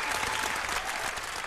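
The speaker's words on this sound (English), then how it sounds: "clap it up for this MC." A studio audience and crew applaud a rapper on a morning hip-hop radio show, with dense, steady clapping throughout and some crowd noise mixed in.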